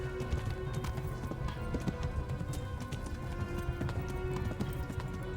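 Horse hooves in the video game Kingdom Come clop in a fast, steady rhythm, close and continuous, with game noise around them.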